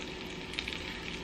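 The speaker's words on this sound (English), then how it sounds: "I'm tossing in the onions" Onions sizzle as they hit a hot pan of melted fat, a soft continuous crackling hiss with a few brief pops, short and fairly quiet, with no talking.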